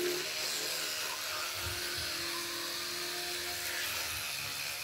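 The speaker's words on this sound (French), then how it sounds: "je vais venir brosser les dents avec" A toothbrush scrubs teeth with a turmeric and baking powder paste, giving a steady close brushing buzz that runs without a break and with no talking.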